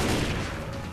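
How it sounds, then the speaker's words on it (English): A pipe bomb blast in the video game Left 4 Dead 2, a loud, dense burst of noise that fills the moment with rumbling, crackling roar and no pause. "That was a nice pipe bomb."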